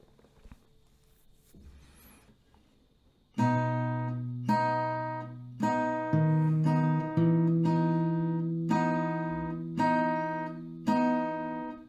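Acoustic guitar slowly plays a melody, one plucked note or chord about each second, ringing out clearly after a quiet start with faint shuffling.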